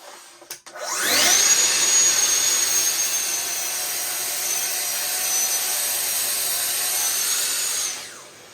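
A Festool TSC55 K cordless plunge saw fitted with a 1.8mm blade spins up with a sharp whine, then cuts steadily through the workpiece for about seven seconds before winding down, loud and close.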